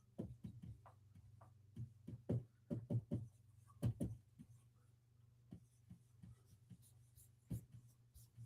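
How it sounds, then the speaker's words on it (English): Marker squeaking in repeated short strokes while names are written on a whiteboard, an irregular run of scratchy bursts, close and fairly quiet, with no talking. "Make sure you stay extra silent while I write the names on the board."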